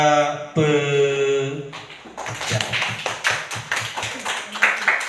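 Applause from a seminar audience for the speaker, starting after a spoken voice and building into a burst of many claps that continues to the end, with talk underneath.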